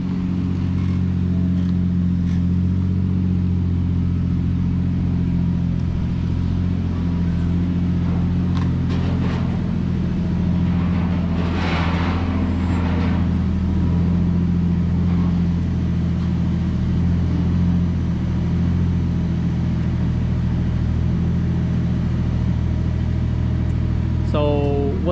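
A Toyota JZX100 runs on a dyno, its engine a constant loud low drone that builds and holds for a long pull, with a rising whine near the end and voices talking over it.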